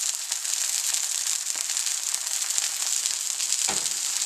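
Zucchini fries in oil in a pan with a steady, close crackling sizzle throughout, broken by a few faint clicks and a soft scrape near the end.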